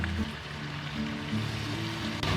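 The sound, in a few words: chicken stir-frying in a pan with Guangdong rice wine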